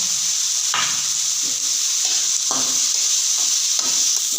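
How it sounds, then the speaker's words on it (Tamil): Onions sautéing in oil in a pan, a steady bright sizzle with periodic scraping strokes of a spatula stirring them, close and continuous, with no talking. "நல்லா அப்படியே வதக்கி வதக்கி விட்டுட்டே இருக்கோம்"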